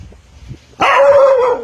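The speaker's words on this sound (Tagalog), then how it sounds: "Bawal ang aso sa palengke." A dog at a market barks once loudly and close, a sharp yelp that trails into a drawn-out whining howl after a quiet moment.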